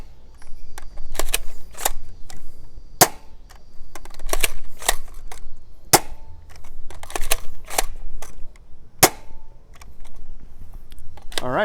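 An Adventure Force Aeon Pro blaster fires foam darts and waffle rounds down a lane, giving a series of sharp, close snaps at uneven intervals, with a voice talking faintly between the shots.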